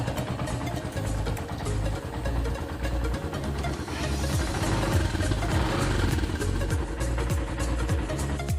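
An internal combustion engine runs in a mechanical engineering lab practical, a continuous low rumbling clatter with rapid regular firing pulses, steady and close, with a slight swell in the middle and no voices.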